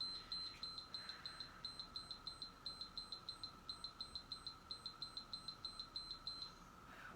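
Workout interval timer beeping during a HIIT circuit session, a quick regular series of high electronic beeps repeating steadily over a soft background hum, fairly faint.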